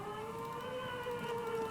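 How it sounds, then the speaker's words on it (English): Police sirens wail in a steady, continuous tone inside the Disco Elysium video game, holding a sustained, moderately loud pitch for the whole stretch with faint background noise and no talking. "Oh, it's police sirens!"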